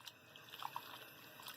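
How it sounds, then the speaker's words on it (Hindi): Spinach is washed by hand in a half-full bowl of water, giving faint, soft sloshing and a couple of small drips and splashes in a quiet room. "हाथ से करके हम अपनी पालक को, अपनी सब्जी को अच्छी तरीके से धोएंगे"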